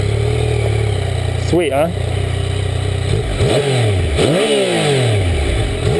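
A 2014 Yamaha FZ-09 motorcycle engine cranks and fires up, then settles into a rough idle with a couple of blips, close by, with someone talking over it.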